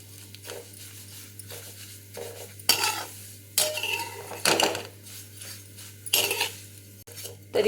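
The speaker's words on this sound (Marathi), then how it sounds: "तूप वितळल्यानंतर आपल्याला शेवया टाकून घ्यायच्या आहेत आणि छान असं मस्त गॅस कमी करून एकदम लो गॅसवर छान भाजून घ्यायच्या आहेत शेवया" Vermicelli roasting in ghee over a very low flame, stirred in a pan with repeated scraping, clinking strokes of a spatula over a faint continuous sizzle, close and fairly loud.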